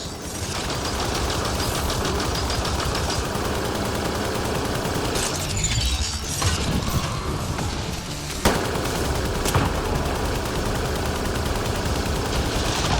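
An upgraded gun fires dense bursts in Mass Effect Andromeda on the frozen world of Voeld, rapid shots hammering almost nonstop, loud and close, with a brief lull midway and heavier impacts after it.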